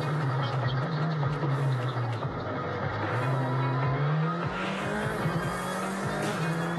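Citroën C3 rally car racing on a stage during the Rallye Club Touquet, its engine droning and rising through gear changes, with tire squeal and gravelly road noise close by.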